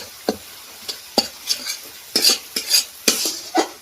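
Masala being stir-fried in a pan, with a metal spoon scraping and knocking against the pan in irregular bursts over a light, steady sizzle, close up and with no talking.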